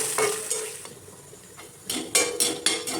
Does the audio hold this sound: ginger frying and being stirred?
yes